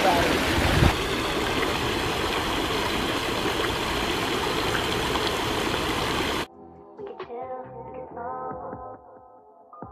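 A small outdoor waterfall flows with a continuous rushing roar for about six seconds, then the sound cuts abruptly to a much quieter scene with faint scattered noises.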